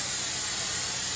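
Canola oil cooking spray hisses briefly from an aerosol can onto a Masterbuilt dual fuel smoker, a steady close, soft spray with no talk.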